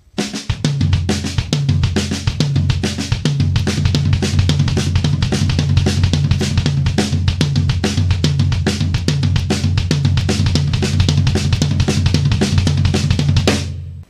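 Drum kit grooving in a 6/8 triplet pattern with snare, a dense, steady run of hits over a continuous low bass tone, loud and constant for about thirteen seconds before stopping.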